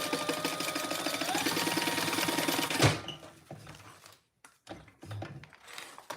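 A sewing machine stitches a fabric wallet in a fast, even whir that stops partway through, followed by faint handling clicks and taps at low level.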